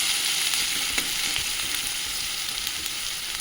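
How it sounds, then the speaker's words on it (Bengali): Onion fries in a pan until reddish brown for a masoor dal with Malabar spinach, giving a soft, steady sizzle with a few faint stirring ticks and no voices. "এইভাবে পেঁয়াজটিকে লাল করে ভেজে নেব।"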